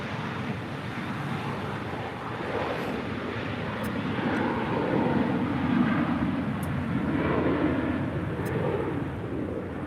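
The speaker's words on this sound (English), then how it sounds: "That is Mike India November Tango departing with JetBlue Airways Flight 100. It's an A321 headed out to Fort Lauderdale." A JetBlue Airways Airbus A321 departs LAX, its engines a steady broad roar that gradually swells in loudness over the seconds, heard from a distance with a wind-like rush and no voices.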